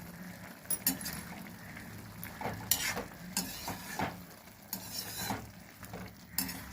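A spoon stirs spinach and potato curry in a pan, giving soft scraping clinks and scattered taps over a faint sizzle, fairly quiet and close.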